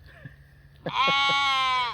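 Sheep in a pasture give a loud, sustained bleat lasting about a second, close by, after a few faint footstep-like sounds.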